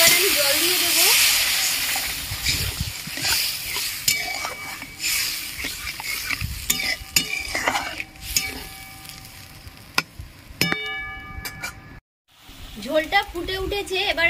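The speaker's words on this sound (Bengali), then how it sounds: "মশলা থেকে তেল ছেড়ে দিয়েছে, এবার আমি জল দিয়ে দেবো।" Water poured into spiced oil for Barishal-style tel koi fish curry hisses and steams loudly at first, then settles under repeated metallic clinks and scraping of a utensil stirring the pan.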